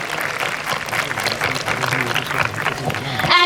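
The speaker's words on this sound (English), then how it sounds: "let's give our troops of 4 houses a big round of applause for their dedication and hard work" A school crowd at a Republic Day celebration applauds troops of four houses after a cadet parade, dense sustained clapping from many hands that swells slightly toward the end.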